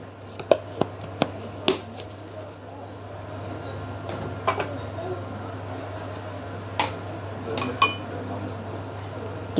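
Garlic, red chili, candlenut, salt and broth stirred in a pot for soto Bandung, with scattered utensil clinks and scrapes against the pot over a steady low hum, moderately close.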